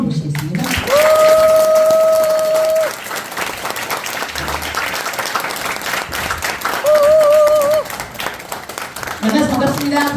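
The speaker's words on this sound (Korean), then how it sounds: "큰 박수로 모시겠습니다" Large audience at a corporate success event giving loud sustained applause to welcome a speaker, steady dense clapping with music tones and voices heard over it.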